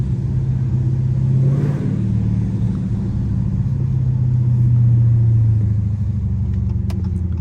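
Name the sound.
Dodge Charger Scat Pack engine, window down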